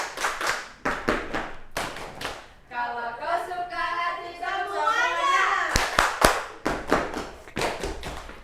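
Sharp group hand claps beat in rhythm with the children's action song 'Kalau kau suka hati' during a classroom microteaching lesson, short bursts of claps around a stretch of sung lyrics.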